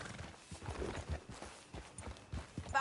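A horse's hooves clip-clop at a quick, rhythmic pace under a rider in the video game Red Dead Redemption 2, with close, fairly soft thuds and no talking.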